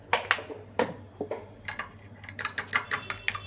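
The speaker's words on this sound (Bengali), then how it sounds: "খুব ভালো করে একটু ফেটিয়ে নিলাম।" A spoon whisks half a spoonful of coffee with half a spoonful of aloe vera gel in a small bowl, giving quick, irregular clinks and scrapes close by, with no talk.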